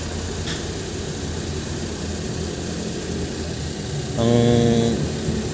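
Noisy idling engine of a Suzuki Wagon mini van with a worn drive belt and tensioner bearing pulley, a steady mechanical drone with a brief louder whining surge near the end, and a short spoken word over it.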